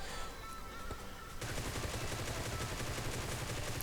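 Groza rifle fire in the mobile game PUBG Mobile crackles as dense automatic gunfire, building into a sustained rapid rattle after a quieter start, with no voices.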